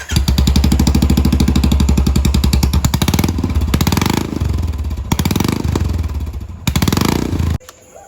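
A Royal Enfield Classic 350 single-cylinder motorcycle, its exhaust removed, starts up and settles into a loud, close, steady thumping idle with a few brief blips of revving before cutting off abruptly near the end.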